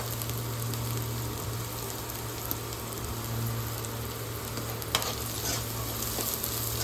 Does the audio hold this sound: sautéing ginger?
yes